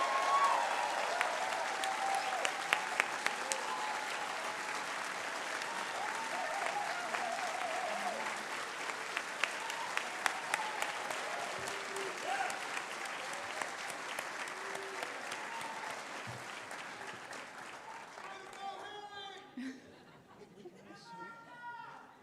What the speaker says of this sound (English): one last major round of applause for all of these fine